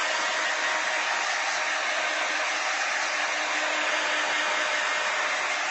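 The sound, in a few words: heat dryer drying paint on art journal page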